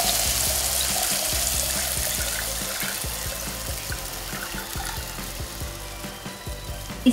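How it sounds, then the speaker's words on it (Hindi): Strained gram flour batter for Punjabi kadhi pours into a kadhai in a steady, close wash of liquid noise with faint sizzling and low clatter underneath, continuous throughout. "जो हमने घोल तैयार किया है उसको हम छानते हुए कढ़ाई में डालेंगे।"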